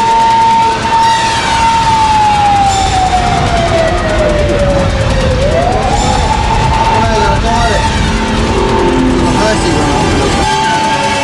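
Japanese police patrol car sirens wail loud and close during a car chase through narrow residential streets, the tone sweeping down and then back up over engine and road noise, with a voice heard alongside.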